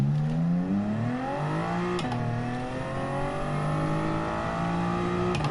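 A Toyota Supra's engine in Gran Turismo 7 drones loudly and steadily, its pitch climbing through the gears with quick shift breaks about two seconds in and again near the end.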